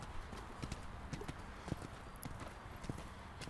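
Horse hooves clip-clopping in steady rhythm while a rider is mounted, faint and fairly close, with light background noise and no talk.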